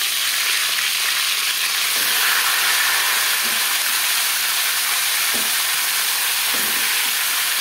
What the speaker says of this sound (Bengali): এবার দিয়ে দেব ম্যারিনেট করে রাখা মাছের মাথা।